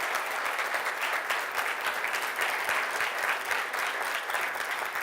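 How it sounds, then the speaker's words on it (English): A round of applause for the day's presenters at a Black & Decker question-and-answer session, a full, even roomful of clapping sustained at steady loudness from start to finish. "Let's give a round of applause to the presenters today"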